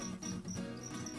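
Crickets kept in wooden boxes at an insect farm in East Surabaya chirp steadily and fairly loudly, a dense continuous trill from many insects with no voices.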